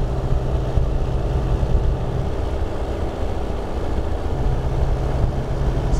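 An aircraft piston engine held at a steady 4000 RPM during a magneto check, giving a continuous loud, even drone with a deep low rumble throughout and no breaks or talking.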